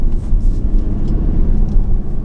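A car accelerating quickly, its engine giving a loud, close low rumble that pulses and builds for a couple of seconds with no talk over it.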